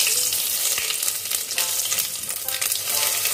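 Bay leaf, cumin, cinnamon and split cardamom hit hot oil and sizzle loudly and steadily, a dense close crackle with no voices over it.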